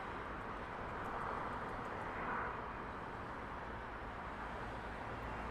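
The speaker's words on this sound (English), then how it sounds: "United Dreamliner." A United Dreamliner airliner arrives at Heathrow, a faint, steady broadband jet rumble in the distance that swells slightly midway, with no voices.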